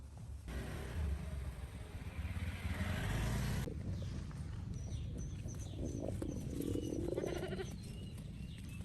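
A hungry baby goat bleats in a garden, its thin wavering cries rising near the end over a steady rushing background noise.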